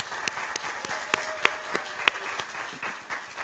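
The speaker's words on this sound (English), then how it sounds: "Stand up and let's give this young lady a round of applause" An audience at a student leadership event stands and applauds a young woman, with steady crowd clapping punctuated by a few sharp, close claps.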